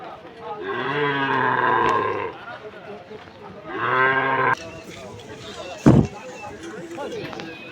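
Cows at a village cattle market in Hazratpur Para, sold for Qurbani, let out two long, deep moos a moment apart, followed by a brief sharp knock amid quieter background noise.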